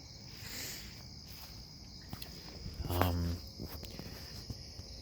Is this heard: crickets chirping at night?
yes